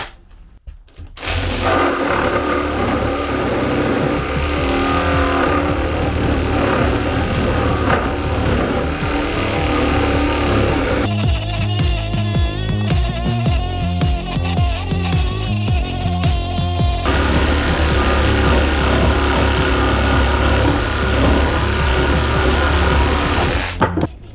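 A Revolt 17-in-1 cordless multitool saw cuts with slight effort, giving a loud, steady mechanical buzz that runs for over twenty seconds, its tone shifting partway through as the load changes, with no speech.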